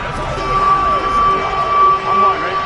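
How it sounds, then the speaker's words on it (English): A football stadium crowd cheers during a big third down, a steady broad roar with a sustained whistle-like tone and swells, under a commentator's voice. "The crowd getting into it as we come up on a big third down."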